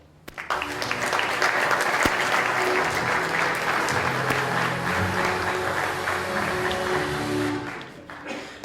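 Sustained audience applause welcoming a speaker to the stage at a startup demo day, steady dense clapping from a sizable crowd that rises quickly, holds for about seven seconds and then fades away.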